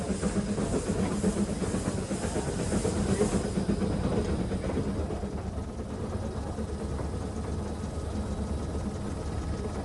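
Steam rack railway locomotive working an 800mm gauge ABT rack line in the Swiss mountains, a continuous hissing, rumbling chug with rhythmic mechanical clanking, loudest early and easing slightly as it moves on.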